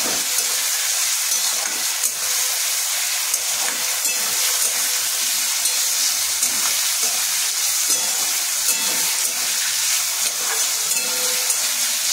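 Potato pieces frying in hot oil in a pan for chana dal, a continuous close hiss and sizzle with faint stirring, steady throughout and without talk.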